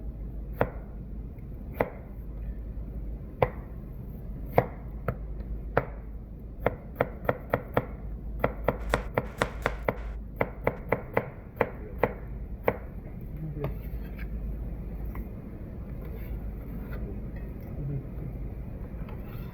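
A knife slices pear pieces for nabak kimchi on a cutting board, the chops coming one at a time and then in a faster run, crisp and close over a steady low background hum.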